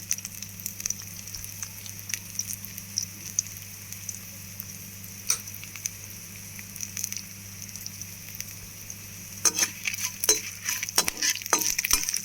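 Garlic cloves fry in oil in a pan for a spicy chickpea dish, giving a soft, steady sizzle with scattered pops and light clinks that grow busier and louder toward the end.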